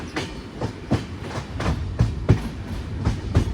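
The Karwar Express, running from Mangalore to Yesvantpur, gives a steady clickety-clack of wheels over rail joints, with regular rhythmic thumps and a continuous rumble heard from inside the carriage.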